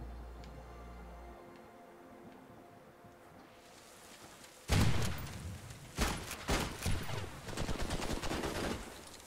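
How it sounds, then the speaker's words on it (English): Gunfire in a video game, quiet at first, then a sudden loud burst followed by rapid bursts of shots, close and sharp, with no talk. "Where's this guy shooting me from?"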